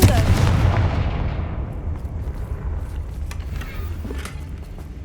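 The Confringo fire spell goes off in Hogwarts Legacy as a loud, deep blast, and a long rumbling roar fades out over several seconds.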